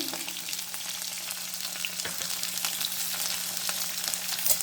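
Onion, garlic and ginger fry in hot oil for a prawn gravy, giving a steady close sizzle with scattered crackles and pops, no talking.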